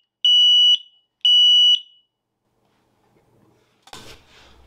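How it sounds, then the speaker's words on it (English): SAFE-TECH interlinked smoke alarm beeping under test: two loud, piercing high tones, each about half a second long and evenly spaced, followed by silence and then a brief rustling clatter. "To test, press any device once all the alarms will flash and beep for 10 seconds."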